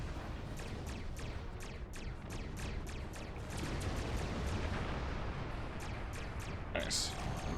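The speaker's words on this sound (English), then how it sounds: "Ship explosions cause damage." Dense, continuous rumbling blasts with repeated sharp bursts, loud and chaotic throughout, like heavy explosions in a space battle, from ship explosions in the video game Star Trek Online.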